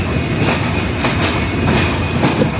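The Simanta Express, a Khulna to Chilahati night train, runs into Natore railway station with a steady loud rumble and rhythmic clatter of wheels over rail joints, heard continuously from on board.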